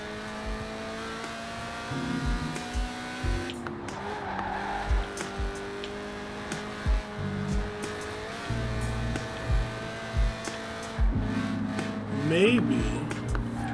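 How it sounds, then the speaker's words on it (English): Lotus Elise Sport 190, a mid-engined rear-wheel-drive two-seat roadster, driving in Forza Horizon 4, its engine note rising and falling with gear changes and brief tyre squeal, with a person talking over it throughout. "Right then, the Lotus Elise, a 90s classic based on the age-old Roadster recipe."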